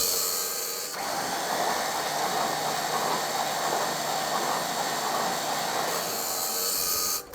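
Starter cranking the engine of a Ford F700 truck that ran when parked, a steady loud whirring drone that holds evenly for about five seconds before cutting off, with no voices.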